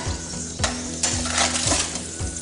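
Pork belly skin sizzles and crackles as it crisps in a hot pan, a steady close frying hiss punctuated by a few soft scraping stirs.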